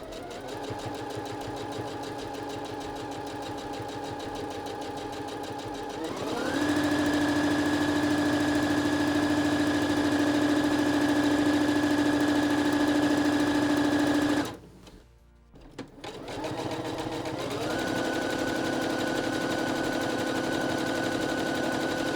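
A Juki HZL 70HW-B sewing machine stitching runs with a fast, steady mechanical hum that climbs to a higher pitch at maximum speed, stops briefly, then starts up again.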